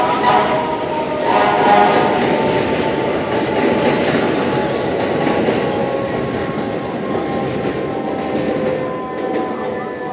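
A New York subway train pulls into a station in Queens, a loud sustained rumble of rail noise with wheel clatter and faint squeal that swells early then holds steady throughout.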